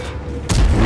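Tank cannon in a video game firing a high-explosive shell from an M46 Patton, a single sudden loud boom after a quiet moment, heavy low-end blast with rumbling tail.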